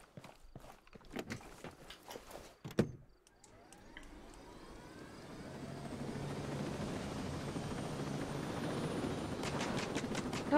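Helicopter in the Ghost Recon Breakpoint video game: after a few sharp clicks and thuds, a low rotor and engine rumble swells in and holds steady, growing louder toward the end.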